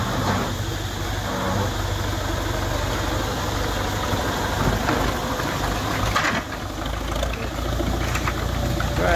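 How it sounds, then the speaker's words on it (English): A beach tractor hauling long jet ski trailers on a Phuket beach runs with a steady, fairly loud engine drone that holds without pause. "When you hear the tractors, you gotta watch behind you because they'll sneak up on you to get the jet skis and things."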